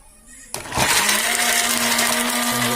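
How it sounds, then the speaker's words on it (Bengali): Homemade DC blender chopping star fruit: a quiet start, then a sharp click as the motor kicks in and a loud, steady whirring hum with a shifting pitch that runs to the end. "এবার ব্লেন্ডারটি দিয়ে একটি কামরাঙ্গা আমি ব্লেন্ডার করে দেখাবো"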